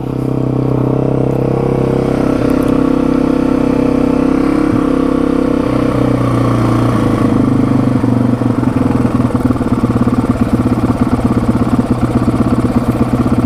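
A 1987 Yamaha TW200 dual-sport motorcycle engine runs steadily on its own, a loud, close, continuous single-cylinder putter with a slight rise in roughness and intensity toward the end, no talking.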